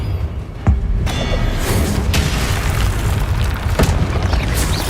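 A fiery Confringo spell blast in Hogwarts Legacy: a loud, rumbling boom over a dense roar of combat noise, with sharp thuds punching through near the start and again later.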